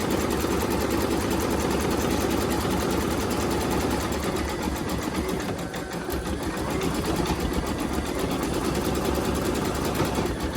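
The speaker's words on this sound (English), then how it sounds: "So just while that's finishing stitching, here's the one that I've just stitched." A Brother Innovis V5LE embroidery machine stitches a tea towel, its rapid needle chatter and motor hum running steadily and close up, loud and unbroken with no talk.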